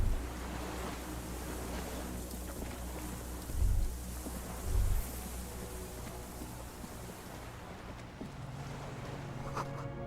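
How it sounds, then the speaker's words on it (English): Distant cargo ships over open water in a harbour scene of the Disco Elysium video game, with a constant washing roar of waves and wind and two brief low horn-like swells near the middle. "Distant sound of cargo ships."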